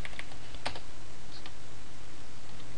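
Computer keyboard typing while a shell script is edited: a few sparse, close key clicks early on, then quiet over a low steady hum.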